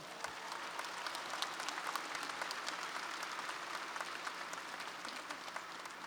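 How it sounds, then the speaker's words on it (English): Commencement audience at the University of Massachusetts Boston applauding public safety officers, a broad, steady wash of distant clapping from a large crowd, faint and even throughout. "Give them a round of applause."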